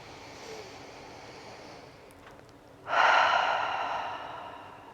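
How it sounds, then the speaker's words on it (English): A single deep breath, a quiet inhale and then a loud, breathy exhale that slowly fades, heard close and alone during a gentle yoga session. "Close the eyes and take a breath."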